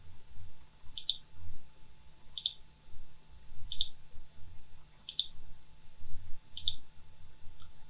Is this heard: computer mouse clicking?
yes